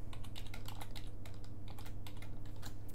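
Continuous typing on a computer keyboard while entering login credentials, steady clicking keystrokes close to the mic, with no talking.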